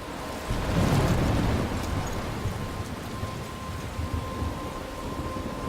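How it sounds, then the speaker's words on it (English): A thunderstorm in the video game Life is Strange, a low thunder rumble swelling early, then steady heavy rain hissing throughout, loud and enveloping, no talk. "I'm trapped in a storm?"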